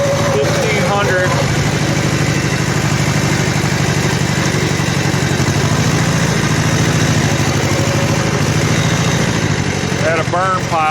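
An 18 horsepower Kubota L-1500 tractor engine idles with a steady low chugging rumble, close and loud, while someone talks over it and a few chirps sound at the start and end.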